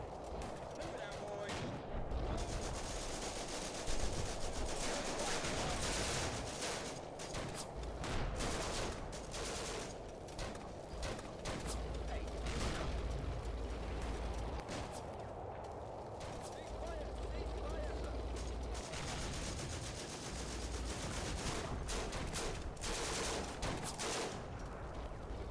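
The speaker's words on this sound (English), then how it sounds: "They're now shooting at that rifle squad." Gunfire aimed at a rifle squad in the Combat Mission: Afrika Korps wargame, with dense, continuous crackling volleys and shots at moderate distance, along with a voice talking.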